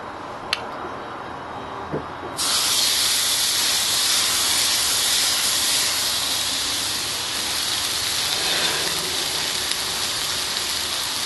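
Dry aged ribeye steak hitting a hot pan, a few faint clicks and then a sudden steady loud sizzle with hissing that holds evenly throughout.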